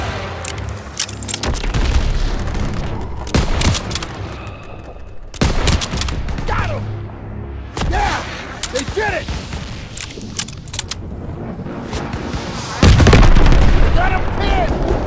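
Battle sounds from a World War 2 strategy game: loud booming explosions and bursts of rapid gunfire close in, mixed with shouted voices and a heavy blast near the end.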